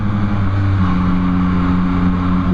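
A Yamaha MT-09 motorcycle engine, 2024 model, holds a loud, steady rev with smooth harmonic drone that shifts pitch slightly partway through, heard close throughout.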